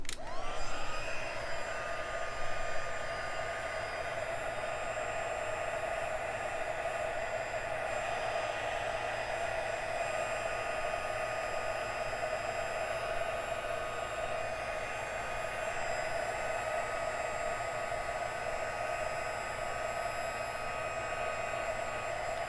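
A heat embossing tool blowing hot air to melt white embossing powder, a constant high whirring hiss that starts abruptly and holds steady throughout, close and loud with no voices.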